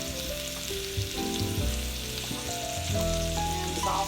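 Sausage sizzles in a pan, a close, steady frying hiss with intermittent pops and crackles, alone and without speech.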